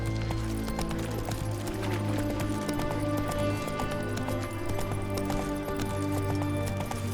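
Geralt's horse Roach galloping in The Witcher 3: Wild Hunt, a steady rhythmic hoof clatter running beneath layered game music, continuous and fairly loud.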